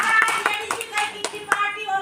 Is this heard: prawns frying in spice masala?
no